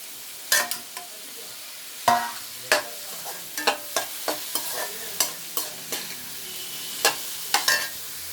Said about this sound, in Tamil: பாருங்கள் தக்காளி நல்லா வதங்கிட்டு இருக்கு நல்லா சுருளை மட்டும் வதக்கிக்குங்க